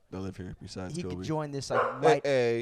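A dog barks several times close by, a few loud barks toward the end, overlapping with people talking.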